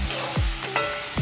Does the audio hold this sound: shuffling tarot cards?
no